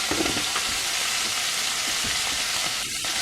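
Deer heart and kidney from a yearling sizzle in a hot pan, a loud, steady crackling fry heard close up with occasional stirring and no voices.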